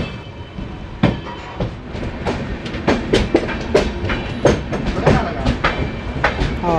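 Konkan Railway passenger train, the Mangala Lakshadweep Express, pulling out of Ratnagiri station: steady clickety-clack of wheels over rail joints with repeated sharp metallic clanks, loud and close inside the carriage, with faint voices beneath.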